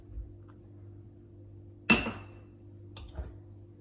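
Spices being stirred together in a bowl while cooking Moroccan chicken with olives, with a single sharp utensil clink near the middle and a fainter tap later over quiet background hum.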